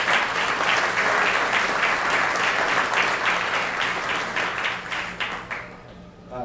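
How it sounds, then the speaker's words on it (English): A large audience applauds steadily for a visiting government minister at an OXI Day event in Chicago, dense and sustained before thinning out and fading toward the end. "Let's have a round of applause for Minister."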